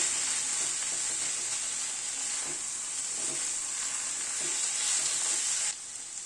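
Shredded cabbage sautéing in a pan gives a steady, bright sizzle with occasional soft stirring scrapes, close and continuous, dropping abruptly near the end.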